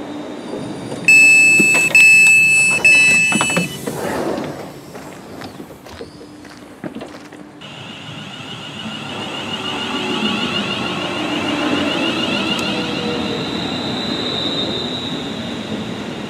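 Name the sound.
trains arriving at a railway station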